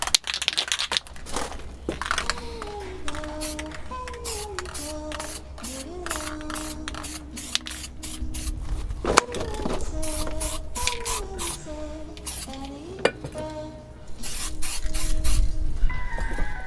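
Rusty coilovers being spray painted outdoors with acrylic primer, repeated short hissing bursts from the aerosol can in an irregular rhythm, close and fairly loud, with faint rattling between sprays.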